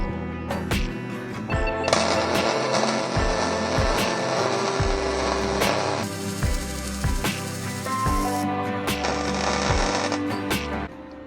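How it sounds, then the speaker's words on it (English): A wire wheel grinds over fresh welds on an AWD Dodge Neon project car, a steady loud harsh whir that keeps running with rhythmic low thumps and several brief stops throughout. "There, I just went over those welds with the wire wheel."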